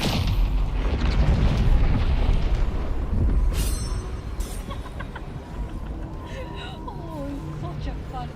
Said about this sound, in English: Oh, such a fun bomb.